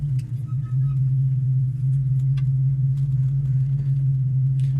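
A 1968 Ford Mustang coupe backing up in reverse, its engine giving a steady, close, low droning rumble that holds at an even level throughout, with no talking.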